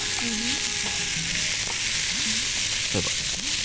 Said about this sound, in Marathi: कोथिंबीर पुन्हा एकदा परतून घेऊया चांगलं